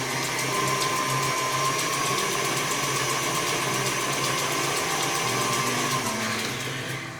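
An electric mixer beats sugar into coffee cake batter with a steady, close, whirring motor drone and a faint rattling texture, unbroken for several seconds and easing off at the end.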